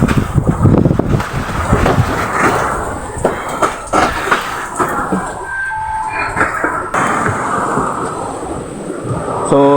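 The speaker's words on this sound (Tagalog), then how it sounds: "Ulan." A rain and wind storm at sea, with dense broadband roar, gusting wind buffeting the microphone and rumbling low noise filling the whole stretch, loud and continuous.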